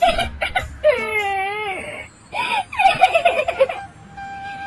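A woman wails and sobs in a kitchen after flour spills over her, loud wavering cries broken by short gasps and whimpers, close and alone.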